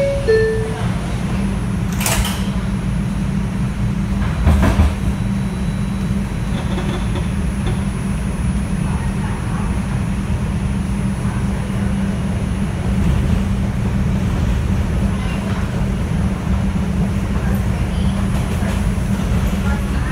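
A Manhattan-bound New York City IRT 2 subway train riding from New Lots Avenue via Livonia, with a steady low rumble and wheel noise throughout, occasional clanks and squeals over the rails, and no voices.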